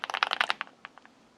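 A heavy new mechanical keyboard clatters with a quick burst of key clicks, dense at first and then thinning to a few scattered taps, close up with no talk.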